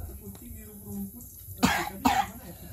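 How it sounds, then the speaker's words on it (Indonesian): Two sharp coughs close together near the end, after a stretch of quiet low voice murmuring. "Batuk dulu."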